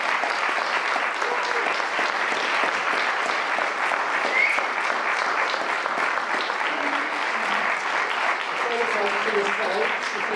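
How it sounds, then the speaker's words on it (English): Audience applauding a panel after a King's College London discussion on drugs policing, sustained close clapping of a fairly large crowd, even and continuous, with faint voices mixed in. "can I ask you to give a round of applause to our panel who've been outstanding."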